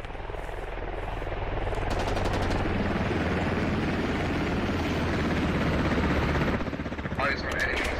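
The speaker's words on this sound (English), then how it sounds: "We're just doing suppressive fire right now." Suppressive gunfire in the video game Squad, a steady heavy roar of sustained automatic fire mixed with a low droning rumble, continuous and loud throughout, with voices talking over it.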